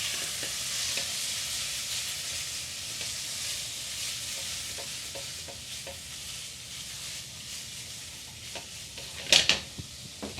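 Vegetable filling for a gluten-free veggie pot pie is stirred in a frying pan: a steady, close sizzle runs throughout, with soft scraping strokes and a few sharper clinks of the utensil near the end.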